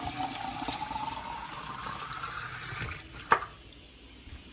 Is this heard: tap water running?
yes